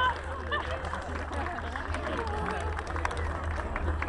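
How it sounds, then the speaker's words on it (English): A crowd at a racing pig show at the Ventura County Fair claps and cheers in steady, continuous applause with background babble, close and fairly loud throughout. "Give him a big round of applause."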